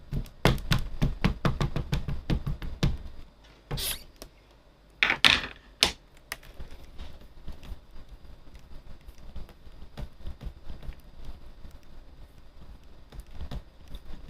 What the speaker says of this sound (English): So I'm going to stamp onto each one of these coloured cards.